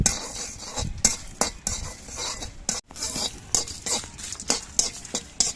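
Whole spices, including cloves, fry in a pan under constant stirring, with repeated sharp scrapes and clinks of a utensil against metal over a light sizzle.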